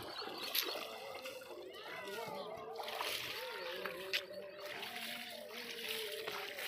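Water splashes and sloshes steadily as a motorcycle is washed in floodwater, with voices talking throughout.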